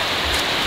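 Rain pours steadily at a fishing pond, a dense, loud hiss of drops hitting the water and surroundings, constant and close throughout the brief moment with no voices heard.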